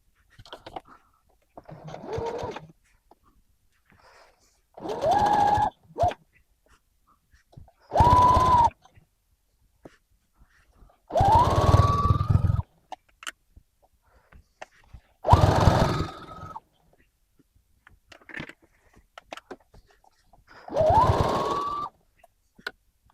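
A sewing machine stitches a legging seam in about seven separate bursts, each motor whine rising in pitch as it speeds up, with near-quiet gaps in between.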